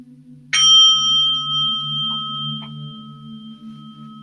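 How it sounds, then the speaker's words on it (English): Meditation bell struck once to open a yin yoga session, a clear metallic strike followed by a long, slowly fading ring, with a low steady hum underneath. "I'm going to ring the bell, and that means it's time to begin"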